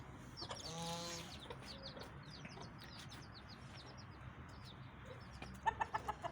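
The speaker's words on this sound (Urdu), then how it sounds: "یہ ایک اچھی نسل کا مرغہ رکھا ہے" Chickens cluck and a good-breed rooster calls at a poultry farm, with a brief crowing burst early on, scattered clucks and chirps throughout, and a few sharp louder squawks near the end against steady outdoor background noise.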